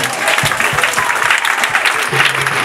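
Church congregation applauding during a French-language sermon, a steady wash of close, loud clapping throughout with voices faintly under it.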